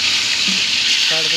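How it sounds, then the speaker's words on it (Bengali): Chicken pieces browning in hot oil in a pan, giving a steady, close, bright sizzle that holds evenly throughout with no gaps. "মুরগি আগে তেলে কষাই নেওয়া হচ্ছে একটু"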